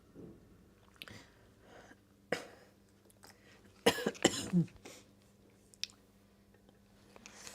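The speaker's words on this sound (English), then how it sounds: "I have a cough coming on" A few scattered coughs, then a sharp burst of coughing and throat clearing near the middle, with quiet mouth sounds around them.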